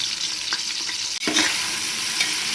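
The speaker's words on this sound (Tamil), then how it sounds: "இது நல்லா கொஞ்சம் கிளறி விடுங்க. எண்ணெயில் நல்லா கொஞ்சம் நேரம் வதங்கட்டும்." Chopped onion and green chili sizzle in hot oil as a spoon stirs them in a pan for Tamil paruppu sadam. The frying hiss is loud and continuous, with brief scraping stirs, a short gap and no talk.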